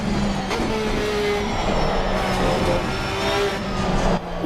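A race car in a racing sim video game drones steadily at high volume as it gets loose through a turn, its engine pitch drifting slightly without pause.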